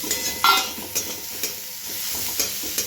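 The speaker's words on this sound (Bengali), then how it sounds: "মশলাটা প্রায় ভাজা হয়ে গেছে," Spices sizzle and fry in a hot pan for a papaya and potato curry, a steady close crackle broken by a few stirring scrapes.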